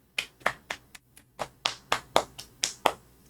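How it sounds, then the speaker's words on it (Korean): About a dozen distinct claps ring out one at a time in a fairly steady rhythm, close and sharp, from a small group at a poolside gathering, with near silence between them. "박수 한번 주세요"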